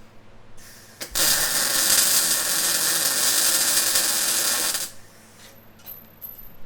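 A welding pass on a helmet, a loud, steady crackling hiss that starts abruptly, holds for nearly four seconds and then cuts off, leaving faint shop noise.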